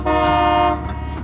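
A passing train sounds its horn very loud and close, a sustained harmonic blast that cuts off abruptly, with rumbling rail noise continuing after.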